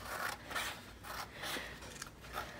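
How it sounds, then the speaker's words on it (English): Scissors snip along the edges of paper tuck spots in a travelers notebook art journal, several close, crisp cuts with a rasping edge repeating at a steady pace, with no voices. "I'm gonna cut off the edges of the secret tuck spots."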